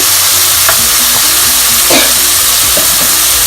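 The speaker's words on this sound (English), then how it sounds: "You want to continually stir fry it" Loud, continuous sizzling of chicken being stir-fried in a hot pan, with scraping and clinking of a utensil as it is stirred, close up.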